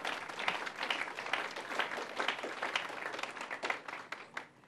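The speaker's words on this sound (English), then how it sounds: "Let's give them another round of applause" An audience at a groundbreaking ceremony for a state housing department headquarters applauds, a lively uneven patter of clapping hands that swells and fades over several seconds.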